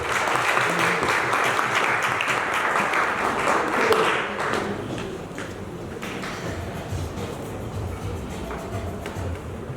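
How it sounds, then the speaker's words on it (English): Audience applause at a public enterprise chief executives' welcoming cocktail dinner: dense, sustained clapping from a crowd that carries through the whole stretch, easing slightly after a few seconds but continuing steadily. "Please give him a big round of applause."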